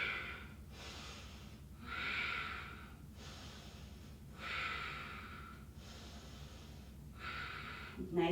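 Deep, slow breathing during a vinyasa yoga pose: several long breath cycles, each a soft airy inhale or exhale swell followed by a pause, close and fairly quiet.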